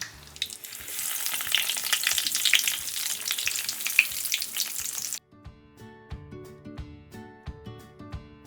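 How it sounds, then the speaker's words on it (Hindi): Hash browns frying in a pan, a bright close sizzle for about five seconds that cuts off abruptly into quiet music. "सबसे पहले मैं जो है ये हैश ब्राउन फ्राई कर रही हूँ"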